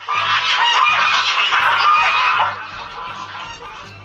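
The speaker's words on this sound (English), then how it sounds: "it's a gaggle of geese, and they're coming for her." Loud, close honking from a gaggle of geese, many overlapping calls that thin out toward the end.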